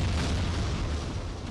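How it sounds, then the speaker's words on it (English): A video game explosion gives a dense, sustained roaring boom with heavy low rumble, loud and close, filling the whole moment with no voices over it. "Why did you run towards the explosion?"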